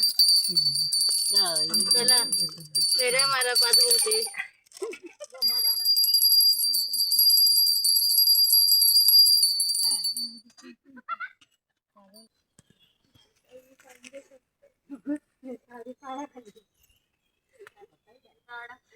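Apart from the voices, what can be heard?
hand bell rung during Vat Purnima puja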